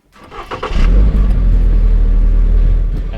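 A Toyota GR86 with a 228-horsepower boxer flat-four and an automatic gearbox revs up. Its engine note swells from near silence into a loud, steady, deep rumble that holds close and even for the rest of the clip.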